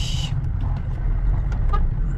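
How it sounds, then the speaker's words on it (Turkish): A car horn honks briefly at the start while driving in heavy city traffic, followed by a steady low engine and road rumble inside the car. "kornamı çaldım"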